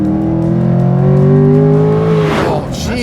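A Corvette C8 Stingray accelerates hard, its engine note climbing in a loud, close, rising drone before a sudden shift near the end, with no voices over it.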